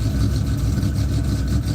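A car engine with a cam, running rough and firing on only four cylinders, a loud, close, uneven lumpy idle that chugs steadily throughout.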